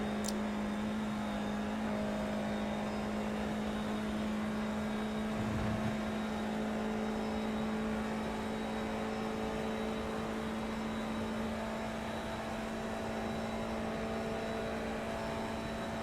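An F4-class Formula IR-04 racing car in iRacing, held flat out through a fast section at Spa. The engine gives a steady, unbroken drone at constant pitch, fairly faint, with no speech over it.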